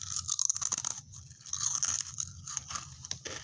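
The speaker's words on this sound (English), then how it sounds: "Want to hear me crunch it?" Veggie chips crunch close to the microphone in a few sharp bites and chews, crisp brittle snaps separated by short quiet gaps, with no talking.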